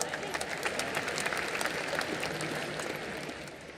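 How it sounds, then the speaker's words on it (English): Applause from the audience at the 53rd International Film Festival of India closing ceremony in Goa, a dense, lively clapping that holds strong and then tapers slightly toward the end. "let's give a round of applause for Dr."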